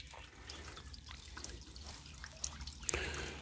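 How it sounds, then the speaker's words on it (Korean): Water dripping from the tip of a bamboo spout into a small two-tiered garden pond, soft scattered drops over a quiet background, with a louder splash near the end. "저기서 지금 대나무 끝에서 물이 떨어지고 있습니다. 물방울 소리가 들리고 있어요."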